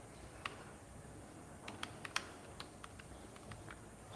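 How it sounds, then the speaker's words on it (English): Someone types on a computer keyboard in short irregular bursts of light clicks, quiet and near, over a steady room hiss. "hopefully my typing is getting better"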